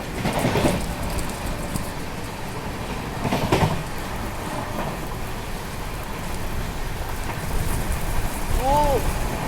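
Heavy rain falls during a coastal Karnataka train journey from Mangaluru to Goa, a steady hiss of rain over the moving train's rumble, with a few brief louder bursts and voices nearby.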